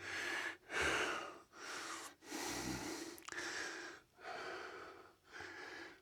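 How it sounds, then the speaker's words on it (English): Heavy, labored breathing of a person bent over inside an old mine in a national forest, coming in about six loud, close breaths in steady rhythm with brief pauses between them. "Sorry, I'm breathing hard."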